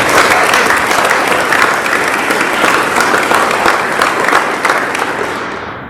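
Close, loud round of applause honoring quarterly award winners at an Air Force wing commander's call, a thick wash of many hands clapping that keeps going, then tapers off slightly near the end.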